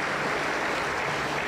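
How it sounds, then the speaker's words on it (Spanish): A church congregation claps together for a brief, moderately quiet burst of steady applause. "Fuerte aplauso para el Señor Jesucristo."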